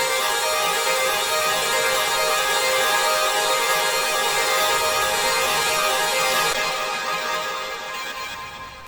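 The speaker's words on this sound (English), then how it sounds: "it's just this pluck which I rendered out later and added some effects" A rendered synth pluck drenched in delay and reverb with a Past Lives fragments effect forms a dense, shimmering wash that holds steady, then thins and fades toward the end, with no one talking.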